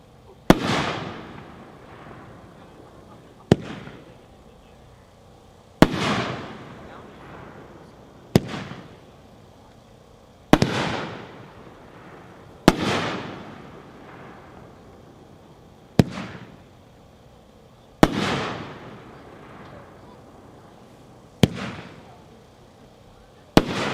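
Big John by Maddox, a six-shot consumer firework cake with big loop breaks, fires sharp booming shots in a slow irregular sequence, each bursting loudly and crackling as it fades.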